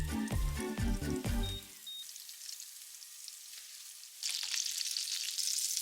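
Food deep-fries in oil for a Halloween bento, giving a bright, crackling sizzle. It starts softly after a brief burst of music, then grows louder and denser near the end.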